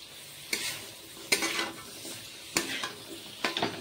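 Jackfruit pieces for pickle are mixed with spices in a pan: four or five distinct scraping stirs spaced a second or so apart over a faint background sizzle.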